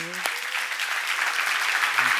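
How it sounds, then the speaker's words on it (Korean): A short burst of audience clapping at a church seminar, a dense steady patter of many hands filling the room, fairly loud, with a brief voice at the start. "박수 좀 치라고"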